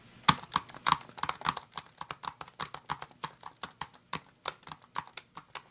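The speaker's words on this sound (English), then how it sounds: "Go ahead and type that in there." Rapid typing on a computer keyboard, with close, crisp key clicks in an irregular but steady stream and a few louder keystrokes, alone without talk.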